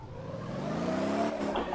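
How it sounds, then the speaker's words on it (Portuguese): Pickup truck in the driving game Motor Town revving steadily, its engine tone rising then dipping, with a faint tire squeal near the end and no talking. "e vamos fazer esse bichinho cantar pneu."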